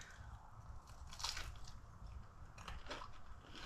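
Crunchy top of an old-fashioned bread pudding made in an air fryer is bitten and chewed, producing a few soft, close crunches over a faint background hiss.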